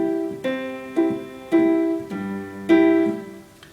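Piano keyboard chords in 5/4 time with two downbeats, struck in a steady pulse of sustained notes that ring and decay between hits, close and alone without talk.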